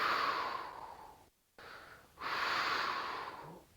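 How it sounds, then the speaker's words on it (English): Breathing during an ab stability exercise: a long, close, airy exhale, a brief pause, then a shorter breath and another sustained breath out. "I like to exhale as I extend"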